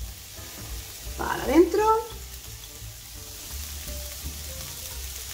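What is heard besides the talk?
chopped onion frying in a pan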